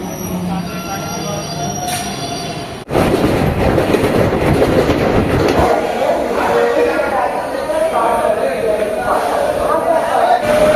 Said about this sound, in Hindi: ये वाला है अपना ट्रेन जनशताब्दी एक्सप्रेस। ये वाला ट्रेन है, लोकल ट्रेन है।